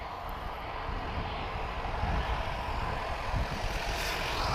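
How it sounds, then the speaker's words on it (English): An Airbus A321neo airliner departing Lisbon Airport for Paris Orly, heard as a steady, broad jet engine roar that holds fairly constant and grows slightly louder toward the end, with no voices. "TP448, this is an A321 Neo, Tango Juliet Juliet, she's off to Paris Orly."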